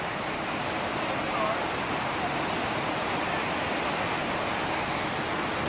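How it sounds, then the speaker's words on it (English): A raging river beside a freight train derailment where a train struck a rockslide and rolled down a cliff, a steady, dense broadband roar of rushing water that fills the whole stretch without a break. "And the river's raging."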